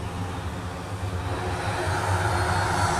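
Embraer E2 jet with Pratt & Whitney geared turbofan engines at Dublin Airport, a loud continuous roar with a steady low droning hum, close and unbroken.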